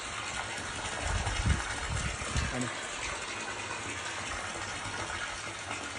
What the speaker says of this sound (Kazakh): Су орып тұр.